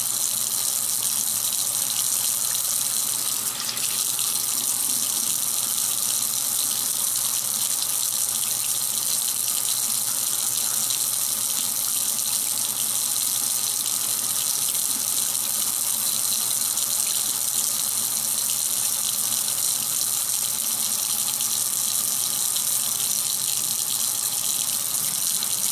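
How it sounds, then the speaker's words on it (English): Distilled water pours steadily into a container to rinse out indigo dye, a constant loud hiss of running water like a tap, unbroken for the whole stretch with no voices. "we're just going to add some distilled water to this to rinse it."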